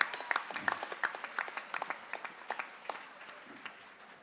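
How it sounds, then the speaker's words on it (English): Sparse, scattered clapping from a quiz audience at the TCS InQuizitive 2024 Chennai regional final, a thin room of individual distinct claps with irregular rhythm that gradually tapers off. "Can we have a round of applause for our champion here today"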